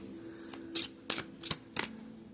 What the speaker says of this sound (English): as I'm sitting here shuffling